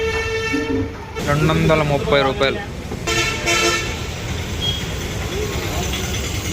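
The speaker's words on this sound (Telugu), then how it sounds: "అదే మామ మన ట్రైన్" Railway station platform with a Coimbatore–Lokmanya Tilak express nearby, a loud horn blast sounding over busy ambient noise and rumble while people talk close by.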